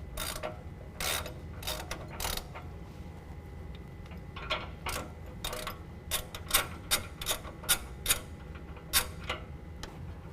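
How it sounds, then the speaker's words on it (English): Ratchet or wrench clicks work an 18 mm bolt loose on the sway bar of a 2019 Dodge Ram 1500, a run of sharp ticking strokes that speeds into steady repeated clicks, close and alone. "use an 18 millimeter wrench to finish pulling the bolt off"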